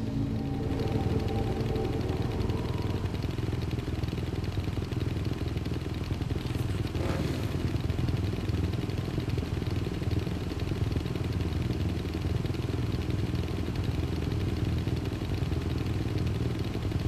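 A steady, close engine drone in the Dead Rising 2 video game, like motorbikes and chainsaws running continuously, holds through the whole stretch with a brief clattering rasp midway.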